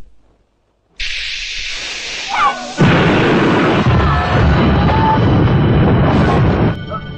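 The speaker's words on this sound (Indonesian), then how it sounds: "sekaligus meledakkan tempat pestanya" A film explosion destroys a party venue: a sudden loud blast erupts, then a second heavier boom follows into a long roaring, hissing rumble of fire and debris that fills the rest of the clip.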